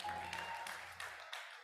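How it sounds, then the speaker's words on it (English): An audience at an annual celebration and awards ceremony applauds to welcome the hosts on stage, a short, fairly faint patter of clapping with a steady tone and a low hum beneath that cuts out near the end. "Ladies and gentlemen, with a warm round of applause, please welcome our hosts on stage."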